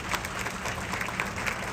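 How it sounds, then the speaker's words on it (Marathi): Applause for parents at a student honors ceremony in Titwala, a crowd clapping steadily with individual claps audible in a continuous moderate patter. "एकदा जोरदार टाळ्या आपल्या आईवडिलांसाठी सुद्धा झाल्या पाहिजे."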